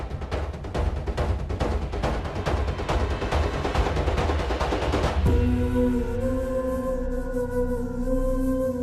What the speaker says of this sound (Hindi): चलो पटाखे जलाते हैं।